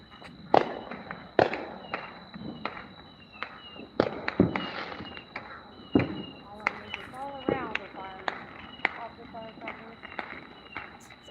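Fourth of July fireworks and firecrackers go off in a rapid, irregular string of sharp, loud bangs and crackles close by, some with sputtering tails, while people talk and react between the blasts.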